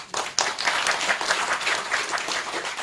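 Audience at a talk bursting into sustained applause, dense and fairly loud, holding steady for a few seconds before tapering slightly.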